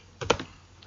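A few quick keystrokes on a computer keyboard, a short cluster of close, crisp taps followed by one faint tap, with no talking.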